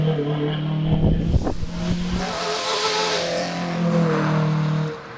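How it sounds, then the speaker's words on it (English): A Peugeot 205 race car climbs a hillclimb course in a British championship round at Doune, its engine revving hard through gear changes, loud and close at first then holding a steady strained drone as it pulls away. "we have John Lowe running in himself in the class in his Peugeot 205"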